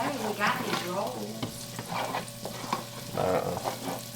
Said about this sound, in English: I'm just gonna stir them around for just a couple of minutes